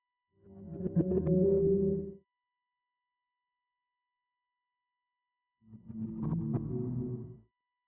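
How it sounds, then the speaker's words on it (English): Two swells of low, murky reversed tones, each rising and cutting off abruptly, wrapped in reverb, with a long silent gap between them. "I added some of these low reverse sounds with a bit of reverb."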